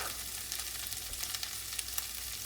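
Ground beef sizzles and fries in a pan alongside carrots for a pasta sauce, a steady close, bright crackling hiss with small popping spikes and no voices.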